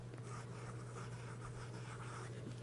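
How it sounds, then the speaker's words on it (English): Steady, soft nib scratching of a Montblanc 144 fountain pen across paper, continuous and close over a low background hum. "it's just a joy just to write with this fountain pen"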